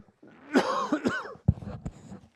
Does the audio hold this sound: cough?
yes